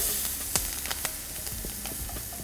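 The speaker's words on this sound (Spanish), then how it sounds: "aquí colocamos rápidamente cebolla" Chopped onion hitting a hot pan where meat has just been browned, giving a steady close sizzle with a few sharp clicks and scrapes of stirring.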